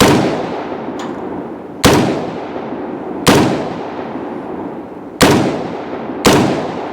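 Five sharp, loud explosive target blasts go off one after another at irregular intervals, each a close boom with a decaying rumble, heard outdoors on a steelhead fishing trip with no talking.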